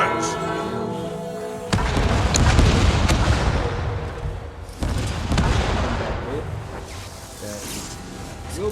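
Cannon volleys in the online game Guild Wars 2 during a player-versus-player match: two heavy booming salvos with rumbling tails stand out over the game sound, loud and close, with no talk over them.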